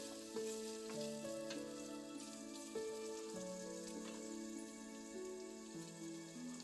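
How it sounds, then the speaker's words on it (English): Bacon frying in a soup pot, a steady crackling sizzle with faint popping throughout, close and alone beneath a quiet tonal hum. "Fry the bacon in a soup pot until crisp."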